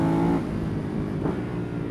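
A Ducati Hypermotard 939 engine pulls hard through the mid-range coming out of a corner, a steady, loud motorcycle drone with a brief harmonic rise at the start and another swell near the end.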